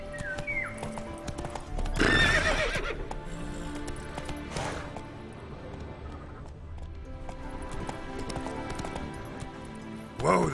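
Roach, a horse in The Witcher 3 video game, lets out a loud whinny and snorts among clip-clopping hooves, with game music and ambience underneath and a second burst at the end.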